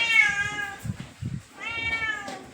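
A cat meows twice, long and plaintive, with a short pause and a few soft low thumps between the calls.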